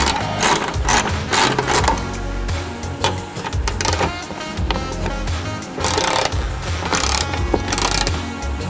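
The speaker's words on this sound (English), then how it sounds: "next we're gonna take out 4 bolts here, 10mm socket" A ratchet wrench with a 10mm socket clicks in quick bursts while bolts are loosened on a GR Corolla engine bay, close and sharp, with brief pauses between runs of clicks.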